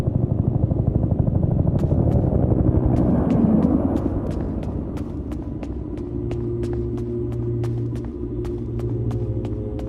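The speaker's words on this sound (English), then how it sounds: "Is that the evac chopper?" A low, thudding helicopter rotor rumble from the video game Peridium fills the scene, with a faint repeating ticking over it and a steady hum underneath.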